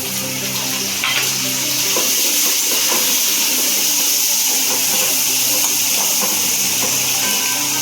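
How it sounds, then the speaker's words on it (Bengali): Tomatoes are dropped into a pan of lightly fried onions, producing a loud, continuous close-up sizzle and hiss with some stirring clatter throughout, and no voice over it. "এখন আমি এতে টমেটো দিচ্ছি।"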